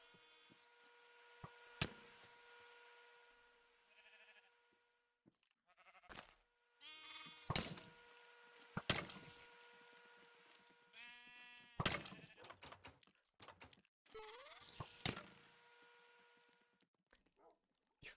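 Sheep in the Minecraft modpack FTB Revelation bleat repeatedly in separate wavering calls spread across a quiet stretch, with clicks and game sounds between them and no talking.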